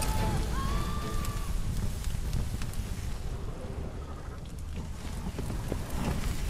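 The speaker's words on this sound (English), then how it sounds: "it's the sound of the fire roaring" Roaring fire in the video game The Witcher 3: Blood and Wine, a steady low rumbling roar with crackles and a brief whistling tone, carrying on throughout.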